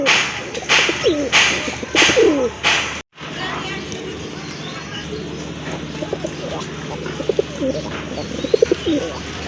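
Red khaki pigeons, including a male, coo and flutter close by at a pigeon sale, with soft repeated coos over a busy background and a voice talking nearby.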